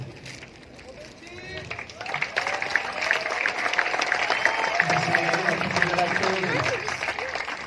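Applause from a tennis tournament crowd at the final of a grand prix event, rising after a couple of seconds into steady sustained clapping, with crowd murmur and a voice faintly underneath.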